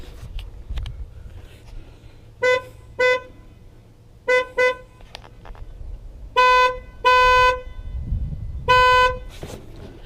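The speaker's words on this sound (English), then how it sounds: "That is the wimpiest horn I've ever heard on a Crown Victoria, ever." A 2002 Ford Crown Victoria P71 police car horn honks in several short close beeps, first single and paired taps, then longer blasts, over light background noise.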